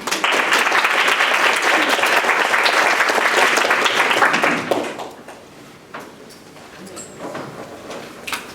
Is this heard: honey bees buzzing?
no